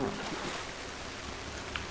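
Rain in the video game ARK Survival Evolved falls as a steady, even hiss of droplets near a shark at sea, continuous and moderately loud with no voices.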